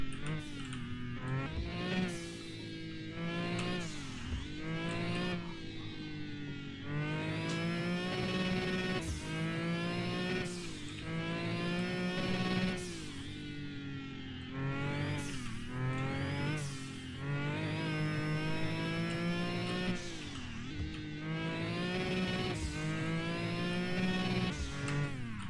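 A race car accelerates from a standing start, its engine revving hard through repeated rising pulls with brief drops between gear changes, loud and close throughout.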